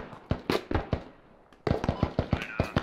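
Video game gunfire in rapid, sharp bursts. A quick volley of close, loud shots is followed by a short pause, then a second, denser run of cracks.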